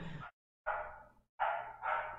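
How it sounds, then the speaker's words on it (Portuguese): A dog barks three times in close succession, loud and raspy with a hoarse, strained voice, in a quiet indoor room with no talk over it. "que esse cachorro ainda tá vivo com essas cordas vocais"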